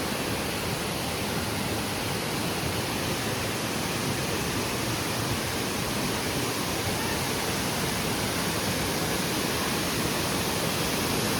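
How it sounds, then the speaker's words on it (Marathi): Loud, dense, unbroken roar of a large waterfall in full flow in Devgad, Sindhudurg, heard close with no break or other sound. "सिंधुदुर्गातील मोठ्या धबधब्यांपैकी एक असा धबधबा"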